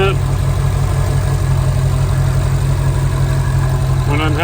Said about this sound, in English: Just running the engine, feeling it.